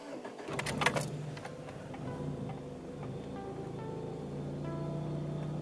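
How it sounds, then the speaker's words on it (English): A 2g DSM car running a speed density tune cranks and catches with a short burst of noise, then settles into a steady, quiet idle heard close by. "And let's give the car a start."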